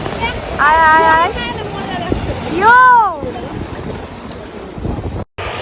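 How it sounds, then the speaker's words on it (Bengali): Sea waves wash on the beach at Digha under heavy wind buffeting, while people's voices rise loudly in the foreground at moments. "সমুদ্রের যে একটা ঢেউয়ের আওয়াজ চারিদিকে যে একটা আওয়াজ সেটাই রেখেছি"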